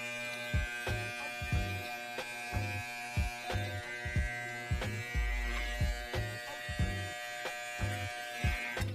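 Electric hair clippers buzzing steadily while cutting a taper haircut, held upside down for a faint line, a close constant hum with rhythmic soft pulses as the blade passes through hair.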